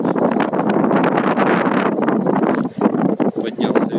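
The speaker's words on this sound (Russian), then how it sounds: "ветер, наверняка меня плохо слышно." Gusty wind buffeting a phone microphone on a mountain near Gelendzhik, a loud, rumbling roar that fluctuates throughout and briefly dips before surging again.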